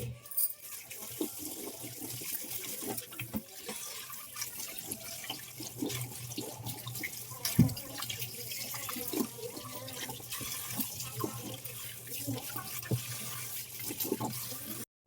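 Cucumbers rinsed under a running kitchen tap in an Indian home, a steady close splash of flowing water with small clatters as the vegetables are handled, no talking.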